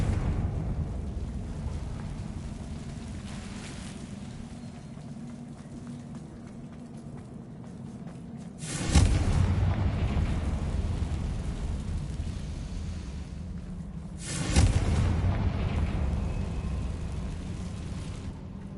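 Confringo blasting spell in the Harry Potter Order of the Phoenix game, two sharp explosive bursts about six seconds apart, each loud and sudden then decaying, over a low steady ambient rumble.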